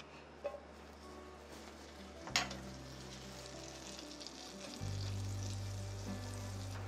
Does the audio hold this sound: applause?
no